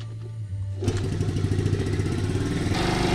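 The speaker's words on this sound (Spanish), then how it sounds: "Colocamos la moto en contacto y la encendemos." Cerro C70 70cc motorcycle engine starts after a brief quiet moment and settles into a loud, steady, fast idle, heard up close with its rapid even pulsing.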